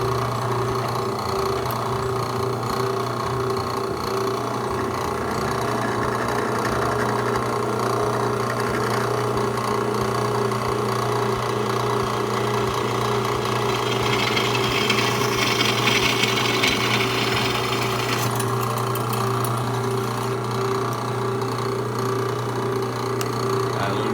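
A drill press bores precision holes in a pipe, giving a steady motor hum with a continuous grinding, rubbing cut that stays level throughout, brighter and rougher in the middle stretch.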